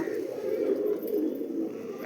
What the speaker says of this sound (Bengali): সব দানা খাচ্ছে পায়রা